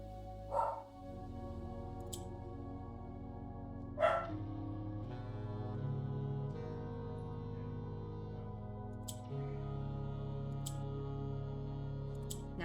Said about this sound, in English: Please excuse the dog. She's freaking out about somebody at the front door.